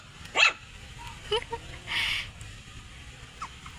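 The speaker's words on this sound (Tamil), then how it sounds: "பாருங்க நாய்க்குட்டியே." Small puppies, one of a litter of six, give a few short yips and barks at close range, separated by brief pauses, while a person talks nearby.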